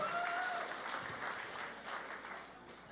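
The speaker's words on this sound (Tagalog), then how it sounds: "Palakpakan natin si President Babes" Audience applause at a gathering honoring a leader, a steady dense wash of clapping from many hands that fades slightly over a few seconds.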